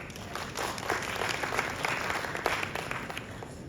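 Audience applause rings out after a speech at African Sourcing Fashion Week in Nairobi, a steady wash of many hands clapping at moderate volume for nearly four seconds with a few sharper claps standing out.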